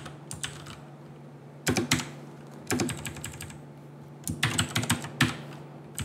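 Typing on a computer keyboard, close and clear, in quick clusters of key clicks separated by short pauses, with a steady low hum underneath and no speech.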